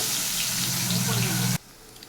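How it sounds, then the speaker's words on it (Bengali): Sliced bitter gourd fries in hot oil, giving a steady loud sizzle close by. It stops abruptly near the end, leaving quiet background. "ডালটা ফোড়ন দেওয়ার জন্য উচ্ছে কটাকে ভেজে নিচ্ছি আমি আগে"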